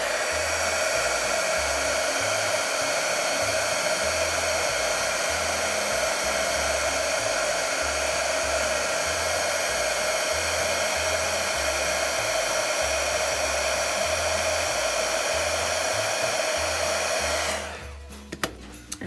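A heat tool blows a steady loud whirring hiss for about seventeen seconds, melting embossing powder on a watercolour Christmas card, then cuts off abruptly near the end.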